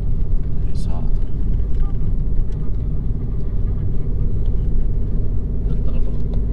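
Car pulling hard at full throttle in second gear through Slovenian scenery, turbo boost building, a steady loud engine rumble and road drone running throughout with voices talking over it.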